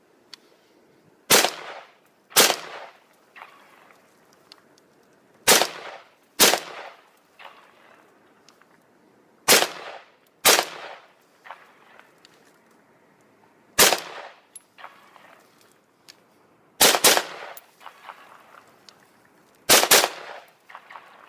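Rifle shots from a Smith & Wesson M&P duty weapon ring out one at a time, about eight sharp, loud cracks spaced a second or more apart, often in quick pairs, each trailing off into a brief echo.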